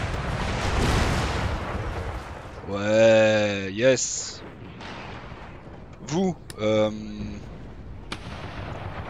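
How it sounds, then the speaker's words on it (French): Cannon fire and falling cannonballs in the Empire: Total War battle game, heavy booms over a rumbling battlefield, with someone talking in bursts across the middle. "Les boulets de canon là qui vont tomber."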